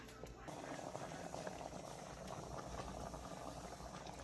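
St. Lucian sweet rice bubbles in a pot on the stove, a continuous soft boiling and simmering hiss with faint rattling, fairly quiet.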